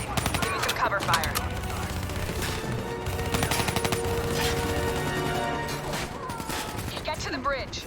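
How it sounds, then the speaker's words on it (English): Sustained automatic gunfire from a firefight in Call of Duty Black Ops 3, rapid overlapping bursts of shots that run nearly continuously for several seconds, with scattered voices in the background. "Give me some cover fire."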